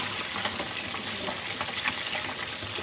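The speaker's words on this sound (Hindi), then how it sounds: "हम एक साइड से दूसरी साइड से भी फिश को 1 मिनट के लिए फ्राई कर लेते हैं" Fish frying in a pan on normal heat for a village-style masala fish curry, giving a steady, soft crackling sizzle that stays even and fairly quiet throughout.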